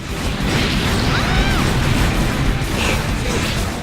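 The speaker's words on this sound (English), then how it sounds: "then boom, double beam cannon in the face" A double beam cannon firing in Gundam Breaker, one loud sustained crashing blast with whooshing energy and clattering mechanical impacts filling the whole moment, no talking over it.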